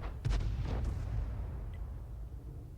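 Artillery rounds from a self-propelled gun in the World of Tanks battle game slam into enemy tanks, a few heavy low booms in quick succession early on, then a rumbling tail fading into a steady low background.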